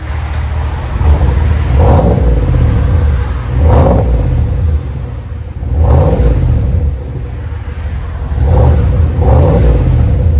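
GMC Sierra 6.2L Denali V8 revved through a Flowmaster exhaust, five deep throaty blips rising and falling at regular intervals, loud and close with no talking.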